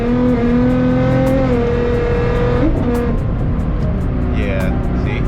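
A Nissan GT-R engine running loud and close, holding a steady growl that shifts pitch as the revs change, with people talking over it.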